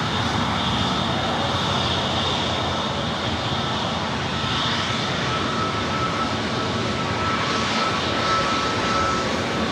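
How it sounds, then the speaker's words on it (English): At LAX airport, a JetBlue Airbus A321neo jet airliner produces a steady, loud engine roar with a constant tonal whine, holding close and unbroken throughout. "JetBlue Airways flight 1524 and A321 Neo heading to JFK."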